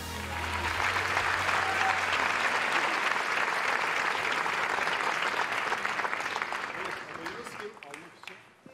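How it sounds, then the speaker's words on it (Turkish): Sustained audience applause at the Altın Kelebek awards ceremony for the Güneşin Kızları cast, dense and steady for about eight seconds before tapering off near the end. "Güneşin Kızları dizisi kadrosuna büyük bir alkış lütfen."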